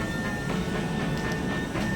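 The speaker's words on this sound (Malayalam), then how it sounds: "ആ മെയിൻ സ്റ്റേഷനിൽ നമ്മുടെ ട്രെയിൻ ഇതാ റിട്ടേൺ പോകാനുള്ളത്" A train stands at Prague main station, giving a steady rail hum and rumble with a faint high whine and a few soft clanks, continuous and fairly close, with no voices.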